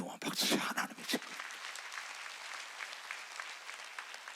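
A congregation at an autumn mountain revival meeting of a Korean church bursts into loud clapping and cheering, which settles into softer, steady applause that carries on.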